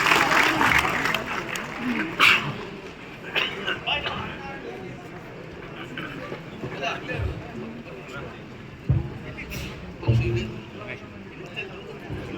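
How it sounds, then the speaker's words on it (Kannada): An audience at a political gathering applauds the arriving BJP state president, a steady wash of clapping with crowd murmur and occasional louder knocks, continuing for many seconds. "ಒಂದು ದೊಡ್ಡ ಚಪ್ಪಾಳೆಯನ್ನು ಕೊಡಬೇಕು"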